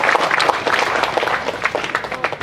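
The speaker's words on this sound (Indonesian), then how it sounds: "Boleh tepuk tangan Bapak Ibu sekalian." Audience applause at the opening ceremony of a public service mall in Atambua, Timor, dense steady clapping filling the whole moment with no pause.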